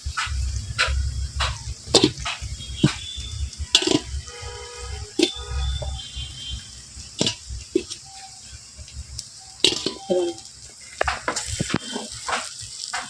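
Cooked rice and egg stir-fried in a pan, giving an ongoing sizzle broken by irregular scraping and clattering strokes as the rice is tossed and mixed, close and clear.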